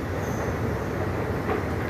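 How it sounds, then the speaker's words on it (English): A metro train rumbles through the Monaco Monte Carlo underground station, producing a steady, dense low roar with faint wheel noise that fills the whole stretch, with no talking. "I think this is the metro station"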